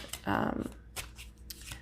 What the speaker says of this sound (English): shuffle the answer decks